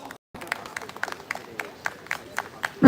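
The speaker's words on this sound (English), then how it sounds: "Please put a big round of applause." An audience at a geography seminar claps in a thin, scattered round of applause, with individual hand claps standing out in an uneven rhythm after a brief dropout, fairly soft and from the room at a distance.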